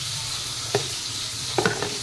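A pork chop fries in hot oil in a pan, a steady loud sizzle throughout with a few faint clinks of a utensil against the pan.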